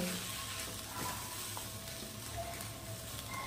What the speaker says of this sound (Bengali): তো দেখুন, সবকিছু কিন্তু আমি খুব ভালো করে মিশিয়ে নিলাম।